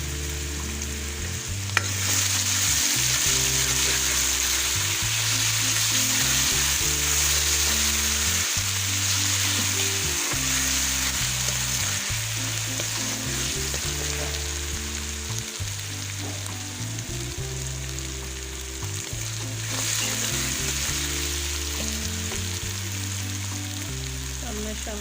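Chili paste fries in a pan for an aloo methi potato dish, giving a steady, loud sizzle throughout. A low, repeating musical pattern plays underneath.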